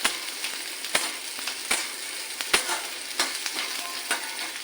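A chili chicken sauce mix of tomato, chili and soy sauces fries in a pan, a steady close sizzle broken by regular sharp scraping clicks of a spatula stirring.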